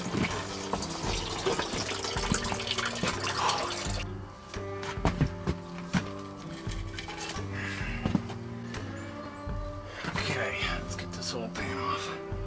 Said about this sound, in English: Coolant gonna come out of here. I'll try to catch that.